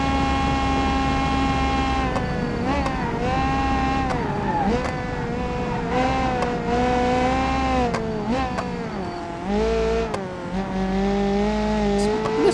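A sketchy 90s touring car screams around the Nordschleife in BeamNG, its engine revving high and dropping repeatedly through gear changes and corners, loud and continuous with a harsh, buzzy tone.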